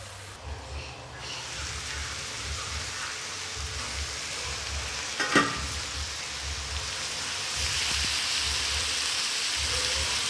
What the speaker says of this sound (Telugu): ఈ ముక్కల్ని మనం ఒక 3 నిమిషాల పాటు ఉడికించుకుందాం.